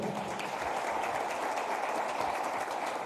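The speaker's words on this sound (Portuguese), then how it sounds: "Aplauda ao Senhor." Sustained applause from a church congregation, dense steady clapping that fills the whole stretch without pause.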